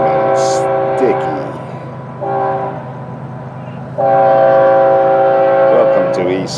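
Florida East Coast freight train FEC210 in the morning in East Central Florida, its horn sounding in several long, loud blasts over steady rumbling rail noise, with someone talking briefly at the start.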